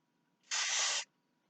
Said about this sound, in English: we got a spray paint bottle